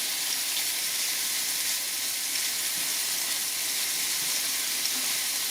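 Raw shrimp hitting a hot pan for Mexican-style camarones, giving a steady, bright sizzle and hiss that holds evenly throughout with no talking.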